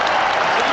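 A football crowd at St James's Park applauding a substitution during a Newcastle United versus Espanyol match, heard as a brief, dense, loud wash of clapping with no voices over it.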